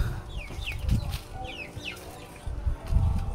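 Chickens on a small farm clucking and calling close by, with bird chirps scattered over a low rumble of handling and movement, moderately loud with no talking.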